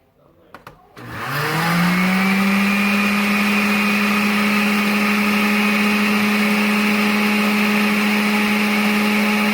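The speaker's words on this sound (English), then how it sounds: "you want to try to aerate those egg yolks" A covered blender whips egg yolks to aerate them, a brief rattle and then a loud, steady high whine that runs close and continuous with no talking over it.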